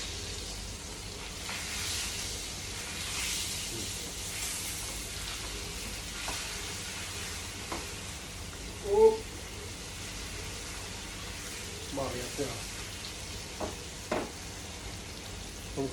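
Mackerel fries in a pan in a Kerala home kitchen, giving a soft steady sizzle that runs throughout, with a few faint clicks and taps and one louder knock midway.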